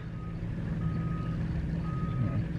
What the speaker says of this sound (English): It has backup sound.